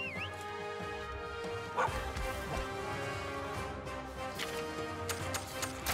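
A dog companion in the video game Monster Hunter Stories 2: Wings of Ruin barks and yips in short bursts over a busy game soundtrack, with faint effects in between.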